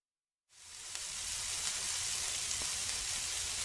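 After a moment of silence, a steady loud sizzle starts abruptly and continues evenly, a bright hissing crackle of steaks searing on a hot grill.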